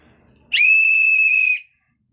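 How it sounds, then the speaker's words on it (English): A tour guide gives a single sharp, shrill whistle blast lasting about a second, close and loud after a quiet moment. "once you see me waving this flag and blowing this whistle, we need to go back to our bus"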